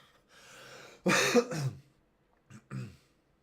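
A person coughs harshly in a short burst, then gives two smaller throat-clearing coughs after a pause, close to the microphone.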